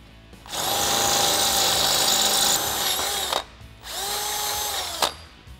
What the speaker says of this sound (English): we are just going to step it up with regular drill bits